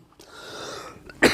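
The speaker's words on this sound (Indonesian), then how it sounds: "Masih agak batuk nih pemirsa ya" A single short cough bursts out at the end, close and fairly loud, after a stretch of quiet background hiss.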